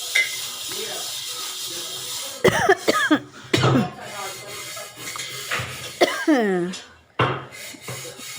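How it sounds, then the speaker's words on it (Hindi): A woman coughs several times in a home kitchen after washing dishes, sharp bursts at about 2.5, 3.5 and 6–7 seconds mixed with faint clinks of pots and household background noise. "और बोलते बोलते खांसी आने लगी।"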